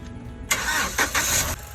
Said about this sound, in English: I'm gonna start the car for you.